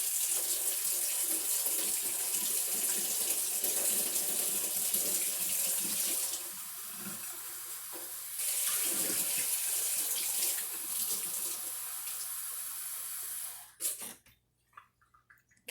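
Warm water runs from a kitchen tap, a steady close hiss that eases briefly, gushes again and then shuts off with a few drips and clinks at the end, with no one talking.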